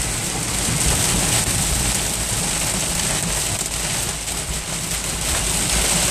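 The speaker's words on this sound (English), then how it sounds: "oh, it's hail. It's hail, baby, it's hail." Hail and heavy storm precipitation pound a car moving at about 30 mph, a dense, steady roar of impacts on the body and glass that stays loud and continuous throughout, with no voices.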